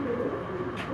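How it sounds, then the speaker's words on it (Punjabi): Sialkoti black-faced pigeons cooing softly in a steady low murmur, close by and continuous, with no talk over it. "ਸਿਆਲਕੋਟੀ ਕਾਲੇ ਮੂੰਹ ਵਾਲੇ ਕਬੂਤਰ ਨੇ"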